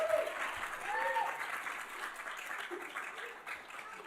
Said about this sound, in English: Another big round of applause for Matthew.